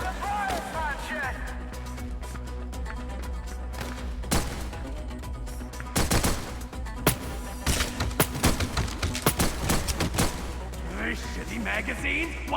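Gunfire in the video game Pioner, bursts of shots and heavy thumps clustering in the middle and growing denser, mixed with ongoing game noise and voices.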